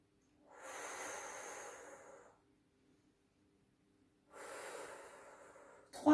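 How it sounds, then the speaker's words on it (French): Slow, deep breathing during a balance and stretching exercise, two long airy breaths separated by a pause of silence, close to the microphone, with no talking. "Et vous inspirez et vous soufflez."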